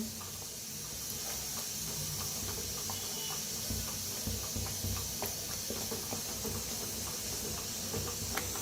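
Chicken masala roasting in a pan with half a glass of water mixed in gives off a soft, steady steamy hiss with faint bubbling ticks, and no one speaks.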